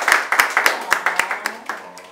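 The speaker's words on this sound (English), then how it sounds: "So a round of applause for her." A few people clap at a film's behind-the-scenes gathering, with sharp, evenly spaced claps about four per second that slowly trail off, sounding close and thin rather than like a full crowd.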